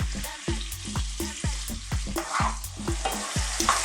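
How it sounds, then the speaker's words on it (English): Pork sizzles and fries in a pan over medium heat, a close, continuous crackle broken by regular scraping and stirring knocks roughly every half second. "On a kind of medium heat, we're just going to cook our pork for about 5 or 6 minutes"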